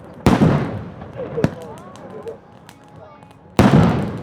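Fireworks exploding on a trip to Chaozhou, China: two loud, sharp booms a few seconds apart, each with a rumbling decay, plus a fainter pop between them and people reacting in the background.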